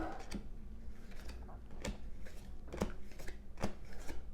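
Quick, crisp riffles and snaps of a card deck being shuffled for a tabletop game sound close by in short bursts, fairly quiet, with no talking.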